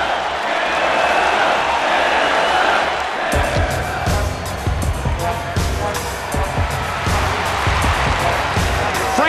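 Arena crowd in UFC Undisputed 3 for a Frankie Edgar vs Ben Henderson bout: a broad roar of a capacity crowd with cheering and scattered impacts, while a commentator talks over it.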